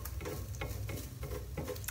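Food frying in a pan during home cooking, a steady soft sizzle with occasional stirring scrapes repeating every few tenths of a second, close and fairly quiet with no voices.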